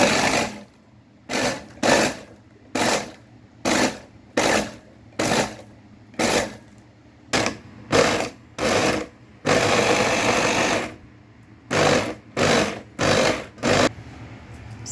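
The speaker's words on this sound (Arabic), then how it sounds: "هجيب الاتنين البسكوت وانزل في الكبة كده وانا اضربهم كده في الكبة." A food processor pulses biscuits for a chilled dessert in a home kitchen: about a dozen short, loud whirring bursts in an even rhythm, with one longer continuous run partway through.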